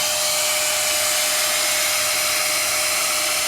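A blow dryer brush runs on its high setting at full volume, giving an unbroken loud rushing whoosh from close by.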